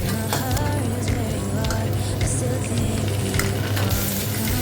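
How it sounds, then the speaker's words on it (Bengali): Onions and potatoes fry in oil as they are stirred, giving a loud, continuous sizzle with scraping bursts over a steady low hum. "আলু অ্যাড করে আমি পেঁয়াজ আর আলুটা ভালো করে তেলের মধ্যে নাড়িয়ে দিচ্ছি"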